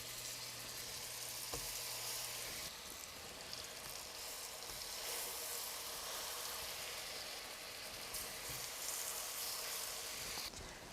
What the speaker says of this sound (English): let them fry real good on that side, on medium-high heat